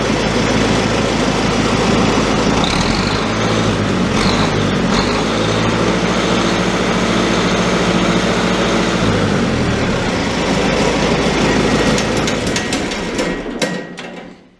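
A Super 55 diesel tractor engine, long unused after some twenty years of sitting, runs steadily with a loud, continuous low rumble and rhythmic mechanical knocking throughout, fading out at the very end.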